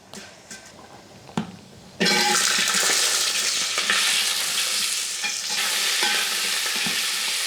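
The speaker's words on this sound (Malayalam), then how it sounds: "നമ്മൾ മുരിങ്ങയ്ക്കയും കൂടി ഇട്ടിട്ട് ആദ്യം ഒന്ന് വഴറ്റിയെടുക്കുക" After a few quiet clinks, drumsticks are dropped into hot oil with mustard seeds and curry leaves and burst into loud, steady sizzling, with occasional stirring scrapes.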